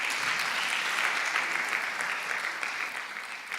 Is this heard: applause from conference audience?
yes